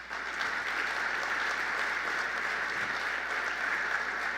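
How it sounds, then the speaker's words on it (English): An audience at the 2023 Greater Columbus EDC annual meeting applauds steadily, a dense and even wash of clapping that holds at a constant level for the whole stretch, with no voices over it. "Please give a big round of applause for each of them and the companies and organizations they represent."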